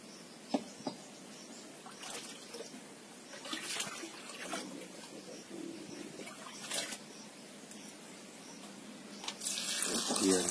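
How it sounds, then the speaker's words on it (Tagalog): Water poured into a clay cooking pot outdoors for a Filipino meal, a soft trickling splash with a few sharp clinks and louder gushing toward the end, faint against quiet background. "So, lagyan natin ng tubig."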